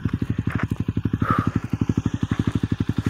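A motorcycle rides along a big road, its engine a close, steady, rapid low thumping pulse that lasts the whole clip.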